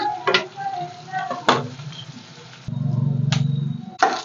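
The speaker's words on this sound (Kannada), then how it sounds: "ಇವಾಗ ಕರ್ಬೇವಿನ ಸೊಪ್ಪು ಹಾಕ್ತಾ ಇದ್ದೀನಿ" Curry leaves drop into hot oil with onions for rasam, giving short crackling bursts and a buzzing sizzle that swells for about a second among scattered clicks of utensils.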